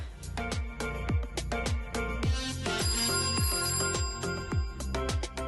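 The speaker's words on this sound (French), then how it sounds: "Téléphone. J'y vais. Téléphone." A telephone rings with a loud, repeating tonal ring pattern, each pulse sounding in steady rhythm close by with no voices.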